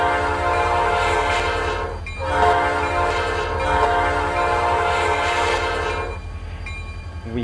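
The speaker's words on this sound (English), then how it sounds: "The bell rings, and the train horn." A locomotive's air horn blares in long sustained chords with a bell in the background, heard aboard a train in the Roblox RO-Scale game on a route from B&LC Horsethief Rail Yard, the horn sounding in repeated blasts before cutting off.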